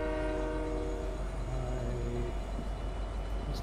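A train in Fortnite rumbles steadily while a sustained horn tone sounds, then fades out, over continuous low mechanical noise.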